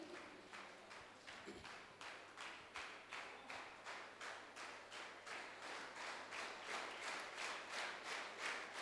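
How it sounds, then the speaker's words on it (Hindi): Audience at a school award ceremony clapping in unison with a steady, even rhythm of about two claps per second, faint and somewhat distant, with no talking. "जोरदार तालियां।"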